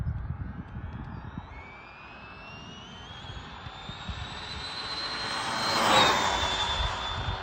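An Arrma Big Rock RC truck on a 3S Turnigy high-voltage LiPo makes a speed run, its motor whine rising steadily in pitch over a broad rushing roar and peaking loudly as it passes close.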